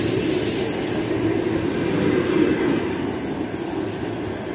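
A commuter electric train pulls into a railway platform in Moscow, a steady loud rumble of wheels and carriages rolling continuously close by, with no voices over it.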